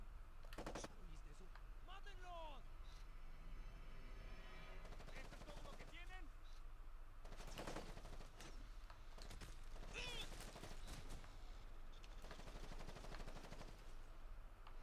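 Bursts of gunfire crackle in Ghost Recon Advanced Warfighter 2, with several short volleys and single shots spread across the clip against a low hum of background noise.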